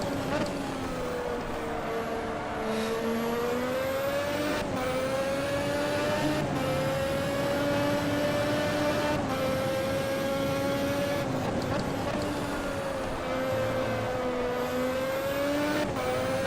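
A 1988 Formula 1 car in the Automobilista racing sim, its high-pitched engine holding a sustained scream that rises and dips through gear changes, loud and continuous, with a driver's voice talking faintly over it.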